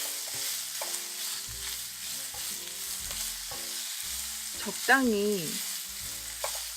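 Shrimp frying and sizzling in a pan for banh xeo, a steady close crackle with brief stirring scrapes and one short burst of voice partway through.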